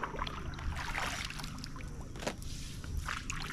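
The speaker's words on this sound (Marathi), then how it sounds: "कशी आता मी तुम्हाला होडी घेऊन दाखवते तिकडे" A small rowboat moves along a creek, with steady watery splashing and dripping from the oars close by, continuous throughout.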